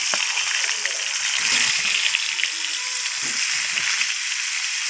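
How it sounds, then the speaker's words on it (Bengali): Pointed gourd (potol) pieces frying in oil, a steady, dense sizzle with occasional spatters running through the whole stretch, fairly close and even in loudness, with faint background voices. "এবার আমি পটলগুলোকেও এরকম হালকা লাল লাল করে ভেজে নেব"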